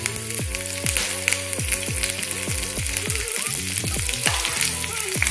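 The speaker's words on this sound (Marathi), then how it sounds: "आता तेल आपलं तापले, जिरं टाकूया," Cumin and green chillies fry in hot oil for a fasting-day potato dish, a loud close sizzle with rapid popping and crackling throughout, no voices.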